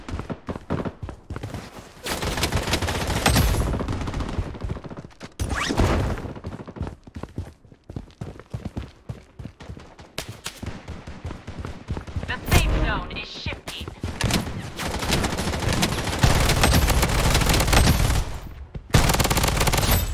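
Rapid bursts of automatic gunfire in the Project Bloodstrike video game, loud and near, with dense stuttering volleys broken by short pauses across the whole stretch, some heavier thumps mixed in.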